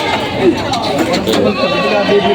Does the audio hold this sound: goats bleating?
yes